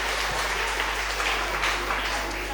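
Steady applause from an audience at a school quiz competition for grade 4 and 5 children, clapping for quiz team Gaurav, a dense even wash of many hands lasting the whole moment with no talk over it.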